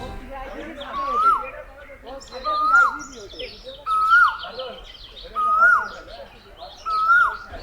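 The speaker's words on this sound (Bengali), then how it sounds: "শুনছিলেন আপনারা কোকিলের কণ্ঠ" An Asian koel calls in a park near Dhaka, five rising whistled notes evenly spaced every second or so, loud and clear over a murmur of background voices and other chirping birds.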